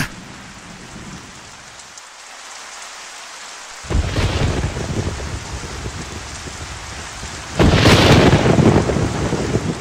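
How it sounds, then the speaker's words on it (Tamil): Rain falls hard during a thunderstorm. A quiet patch breaks into a loud roaring downpour, then a heavy thunder crash swells near the end and the rain keeps pounding, with no voices. "ஒரே இடியும் மழையுமா இருக்க"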